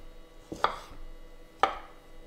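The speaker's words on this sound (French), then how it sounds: "On va maintenant couper les tomates en petits morceaux comme ça." A knife chops tomatoes into small pieces on a cutting board, giving three crisp, close taps spaced unevenly in a quiet kitchen.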